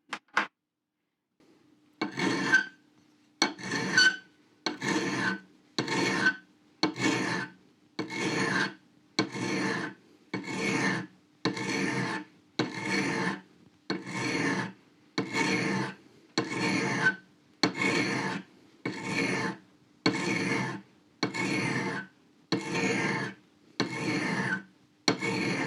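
A hand file rasps against a steel drill bit in regular back-and-forth strokes, about twenty evenly spaced swipes after a short quiet pause.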